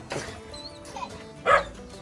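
A tiny new puppy gives a short yip and a brief bark near the mic, with a louder burst near the end over faint background noise.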